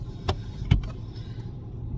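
A VW Polo Vivo GT with a 1-litre turbo engine and six-speed manual drives on the road, a low steady cabin rumble with a couple of soft knocks, no talking.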